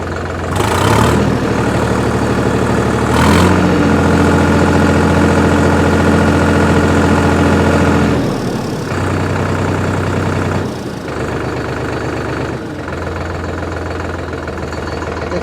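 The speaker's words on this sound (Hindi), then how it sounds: "ट्रैक्टर को हम हाई आरपीएम पे लेके जाते हैं।" Sonalika DI-42 RX 45 hp tractor diesel engine droning loudly and close, with throttle surges to high rpm and drops back in a few steps, no talking.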